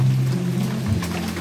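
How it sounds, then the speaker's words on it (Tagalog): Heavy rain pours down in a steady, dense wash close by, with a low constant hum running beneath it and no talking. "Ayun Ang lakas ng ulan."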